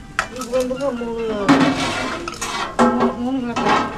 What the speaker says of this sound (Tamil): கறி கிளறிட்டு இருக்காங்க